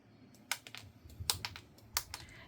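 Dried dandelion roots being cut into small pieces with a knife, giving a series of sharp, crisp clicks and snaps at an irregular pace, fairly close and quiet with no talking.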